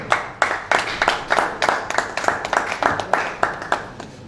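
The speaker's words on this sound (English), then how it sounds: "I expected a round of applause." Rhythmic group clapping at a gathering on a governor's administration, regular sharp claps in a steady beat, moderately close, with murmured voices beneath.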